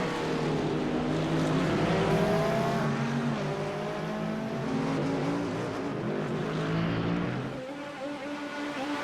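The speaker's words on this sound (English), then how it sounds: "new fastest lap by Jack Shia here. In the Acura NSX" An Acura NSX race car in the iRacing game roars steadily with a rising and falling engine note as it accelerates and shifts, a loud continuous drone that drops off near the end, with no talking.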